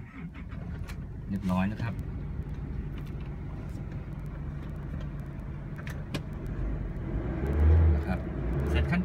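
An Isuzu car started with a cloned GKM chip key, with a steady engine rumble running throughout, keys jangling near the start and a swell toward the end, while someone talks briefly over it.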